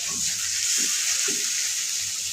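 A paste of ginger, onion, garlic and nuts fries in hot oil, a steady bright sizzle with soft low thumps of stirring now and then, close and fairly quiet, with no voices.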